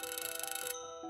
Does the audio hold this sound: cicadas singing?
no